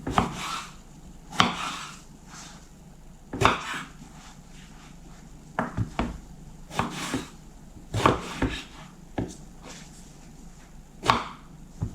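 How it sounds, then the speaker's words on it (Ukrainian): A knife chops eggplant on a cutting board in quick, irregular bursts of sharp close thuds, with short pauses between runs of cuts and no talking. "Баклажани нарізані, приступаю до нарізки перцю."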